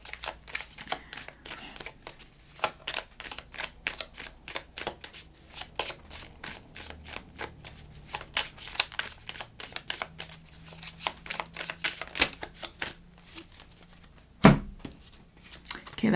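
Tarot cards shuffled by hand in quick, steady riffling bursts, close and fairly soft, with a single heavier thump near the end as cards spill out.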